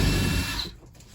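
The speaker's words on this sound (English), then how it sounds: "taking the screws out of this little curtain rod to take the curtains" Power drill whirring loudly up close as it backs screws out of a small curtain rod inside a GeoPro 20BHS RV, one sustained run that stops abruptly and leaves a faint fading hum.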